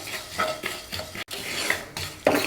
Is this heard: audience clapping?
no